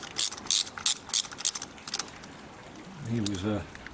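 A socket wrench loosens a spark plug on a Toyota Avensis with an aluminium cylinder head, producing a run of about six quick, close ratchet clicks, followed by someone speaking.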